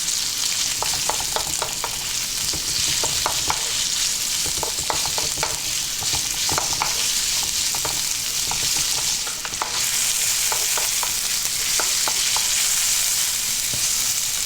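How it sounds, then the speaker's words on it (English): A cup of white onion fries in a pan for Chinese vegetable noodles, a loud, continuous close sizzle broken by frequent clicks and scrapes of a utensil stirring, with no talking. "we're going to add some onion. I'm using a white onion today, 1 cup of that. We're going to cook this for about 2 to 3 minutes."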